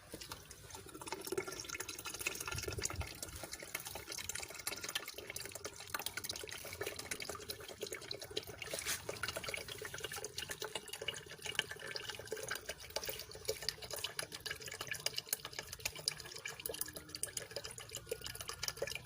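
Young coconut water pouring out of an opened coconut in a steady, continuous trickling stream, close and fairly soft, with no voices.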